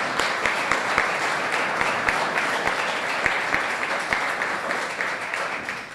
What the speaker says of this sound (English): let's cheer on San Miguel Playhouse.